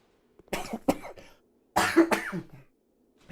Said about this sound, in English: I can't talk with the stupid cough